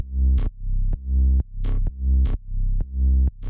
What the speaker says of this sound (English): the bass is just kind of like a rolling bass line, sounds like this.